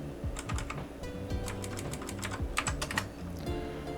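Rapid, uneven clicking of keys on a computer keyboard for a 486 DX4-100 PC, close and crisp, with short bursts of keystrokes and no voices.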